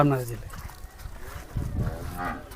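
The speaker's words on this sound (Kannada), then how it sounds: "ಇದು ನಾಟಿ ಹಳ್ಳಿಕಾರ ಹಸು ಕರು" A native Hallikar calf, a two-month-old male born at home on a farm in Kanakapura taluk, Ramanagara district, gives a short, close moo at the start, followed by rustling and muffled background noise.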